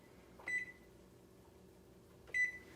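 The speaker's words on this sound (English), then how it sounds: "Okay, so I should put the timer on." A kitchen timer gets set for rice cooking, giving two short, clear electronic beeps about two seconds apart in a quiet room.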